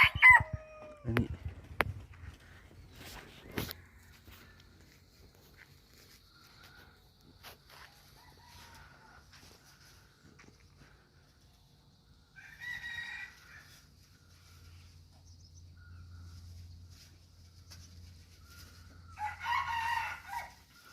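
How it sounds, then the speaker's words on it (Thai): Red junglefowl rooster crowing outdoors: one loud, close crow at the start, then sparse fainter bird calls and distant crowing over a low hum, with another crow-like burst near the end. "ตัวนี้เสื้อไก่ป่า"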